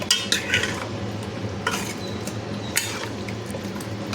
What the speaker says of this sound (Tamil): ஆட் பண்ணிவிட்டு அந்த ஆயில்லையே நம்ம வதக்கி விட்டுறலாம்.